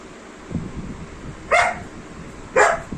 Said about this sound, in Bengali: আমাদের ডলির অবস্থা দেখবে, বাইরে কুকুর এসছে, দাঁড়াও।